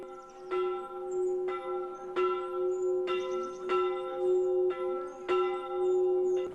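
A church bell at a church in Thailand, rung during a royal visit, sounds in repeated close, loud strikes about once a second, each leaving a sustained, ringing tone that overlaps the next, with no talk.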